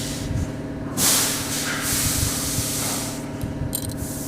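Mutton frying in a pan with ginger, garlic and green chilli pastes gives a steady, close sizzle and hiss that holds for the whole stretch, with a few louder spitting bursts and no talking.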